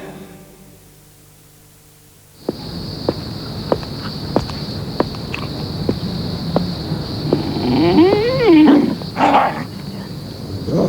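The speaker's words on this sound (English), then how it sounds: "you want to call your dog off?" A dog growls and barks in a TV advert, a few barks and yips over a rough outdoor backdrop with a steady high tone, getting louder toward the end.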